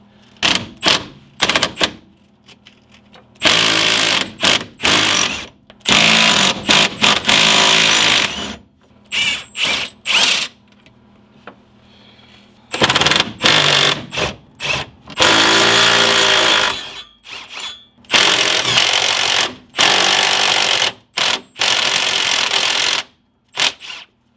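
A power tool with a 1/4 inch hex drive driving bolts during a Datsun 280Z Prothane mustache bushing upgrade, heard as loud, close, rattling bursts of impact driving, several seconds long each and separated by short pauses, with no talking.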